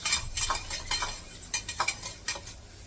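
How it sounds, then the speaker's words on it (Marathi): Onion, cumin, garlic and green chilli sautéing in oil in a pan, heard as a soft sizzle under repeated scraping and clinking strokes of a stirring spoon, with no voices. "हे परतायला चांगलं तेलामध्ये असं एकदम मस्त परतून घ्यायचं"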